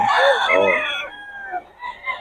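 Roosters at a chicken market in Bocaue give a loud, close crow that trails off, followed by shorter calls and clucks.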